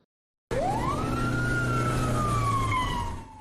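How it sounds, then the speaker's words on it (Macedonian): An Ohrid emergency medical service ambulance siren starts abruptly and sweeps up into a long, loud, sustained wail that slowly falls in pitch and fades slightly at the end. "Звукот на сирената на амбулантното возило беше аларм за медицинскиот персонал од Охридската брза помош"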